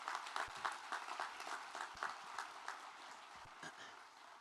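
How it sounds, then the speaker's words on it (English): Faint applause at a high school graduation ceremony for a student speaker, scattered claps rising and tapering off, heard from a distance. "could we get another round of applause for Delaney?"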